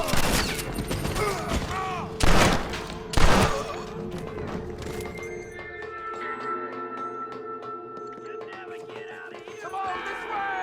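Bursts of gunfire in a Wild West shooter video game, a few loud heavy shots early on, then quieter rattling combat sounds and a held ambient tone.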